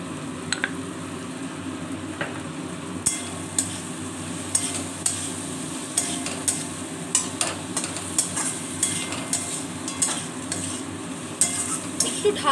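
Whole cardamom, cinnamon and cloves sizzle in a pan of oil for a potato and paneer curry, a constant close frying hiss punctuated by sharp spoon clinks and stirring taps.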